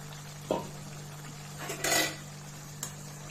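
A lid is set down on a pan of small fish cooking for chorchori, giving a single clank followed by a brief metallic rattle and a faint later tap, over a steady stove hum with no talk.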